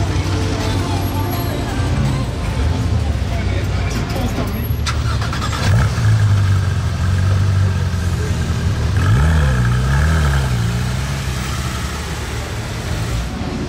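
An Aston Martin DB12 Volante passes on a city street with steady engine and traffic rumble, the engine note rising and falling as it goes by, under a voice talking.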